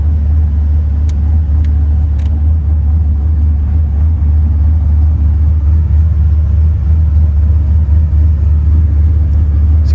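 A 1989 Chevrolet Camaro IROC-Z engine runs close by at a steady idle, a deep constant rumble that holds evenly from start to finish with no talking.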